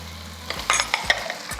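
Chopped onion frying in a pan while harira is being prepared, with a few short scraping stirs and crackling sizzle bursts over a low, steady hum, close and moderately loud.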